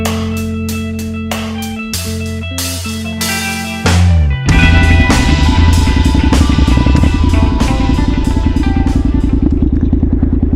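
A cruiser motorcycle's engine runs loud and close during off-road riding, a steady throbbing drone with rising revs and some rattling clatter, no talk.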